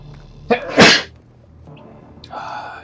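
A character sneezes in the stealth video game Splinter Cell: Blacklist, one sharp, loud sneeze preceded by a brief intake, with quiet game ambience and faint voice fragments around it.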